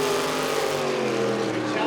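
A jet sprint boat with a Sprint Tech hull and a Magnum Automotive Group A engine races at a Group A event in Wanganui, New Zealand, a steady, loud engine roar with a voice talking over it.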